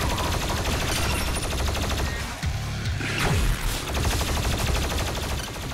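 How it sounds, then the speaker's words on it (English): Shotgun firing sticky bombs in the video game DOOM Eternal: a loud, continuous barrage of gunfire and impacts over heavy combat noise, with a sharp blast near the middle. "finally mastered the regular shotgun's sticky bombs"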